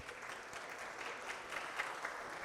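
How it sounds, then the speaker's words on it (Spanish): At a talk on AI agents and vibe coding, an audience applauds a speaker as he takes the stage, a faint, steady wash of clapping heard from a distance. "démosle un fuerte aplauso a André."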